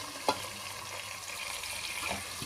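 Turmeric sizzling in a hot pan for Andhra-style gongura chicken, a steady soft frying hiss with a sharp clink of stirring near the start.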